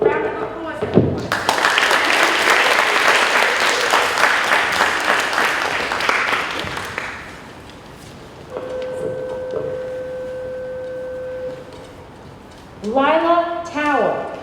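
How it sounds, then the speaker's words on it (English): Applause from an audience at a school honor society induction ceremony, a dense burst of many hands clapping for about six seconds that fades out, followed by a quiet pause and then a voice speaking. "Round of applause, everyone."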